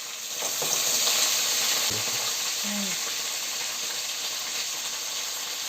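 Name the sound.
crab added to sizzling pan of roasted onions and curry leaves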